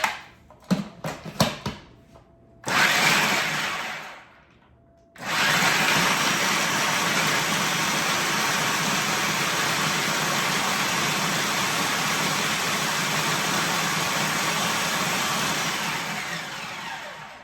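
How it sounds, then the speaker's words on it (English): A blender whirs as it grinds dates for a vegan Snickers base, with a few short pulses and a brief pause before a long, loud, continuous run that holds steady until it stops. "So we're gonna blend that all up together, and that's gonna form the base of our Snickers bar."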